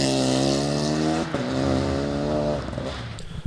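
Small Rally5-category rally car at the Salgó Rally in Hungary, engine revving hard up through the gears, loud and close, with a brief tire squeal.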